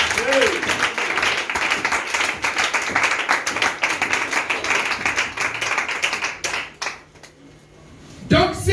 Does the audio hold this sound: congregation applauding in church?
yes